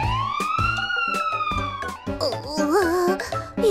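A cartoon fire truck siren wails loudly as the vehicle passes, with a rising and falling tone over animated background music.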